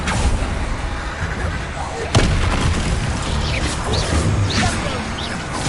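A Bombarda explosion spell in the video game Hogwarts Legacy lands as a sudden sharp boom near the middle, over a busy wash of game effects and chimes.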